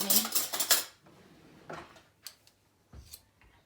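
Metal spoons clink and scrape against dishes during baking, a busy flurry of close clattering at first, then a few scattered sharp taps and knocks.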